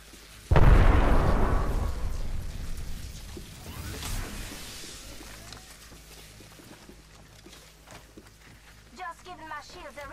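A big explosive blast opens a firefight in the Apex Legends game, then lingers as a fading rumble with scattered pops, with character voices calling out near the end.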